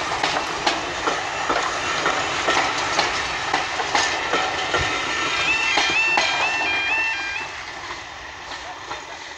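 Double-headed steam train with a 7F and a 4MT locomotive passing a level crossing near Sheringham, loud rumbling wheels and clattering carriages with squeals and beeps, while someone speaks over it.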